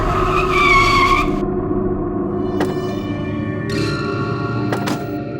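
A car brakes hard and its tyres skid with a loud squeal to a stop on a forest road, followed by quieter squeaks and clicks, with no talk.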